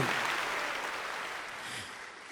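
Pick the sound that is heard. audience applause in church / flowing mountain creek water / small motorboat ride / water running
audience applause in church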